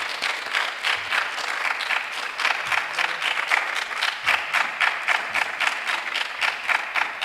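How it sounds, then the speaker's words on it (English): An audience claps at a university business quiz competition on stage, the sound slowly taking on a rhythmic, synchronized pulse of fairly even beats that holds steady throughout, moderately loud with no voices. "Clap for all of us on stage."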